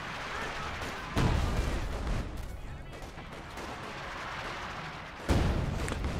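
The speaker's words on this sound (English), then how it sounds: "Grenades going off from the guards. Barrage from the SU-76 gonna force up the MG." Grenades and an SU-76 artillery barrage in the World War II strategy game Company of Heroes 2: a steady rumble of battle with two loud, sharp blasts, one early and one near the end.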